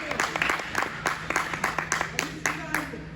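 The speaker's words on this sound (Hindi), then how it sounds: "तालियां बजाओ यार हमारे खिलाड़ी के लिए।" Applause and clapping for a batsman reaching fifty at an indoor cricket match, a run of sharp, uneven claps from a small group, mixed with voices talking.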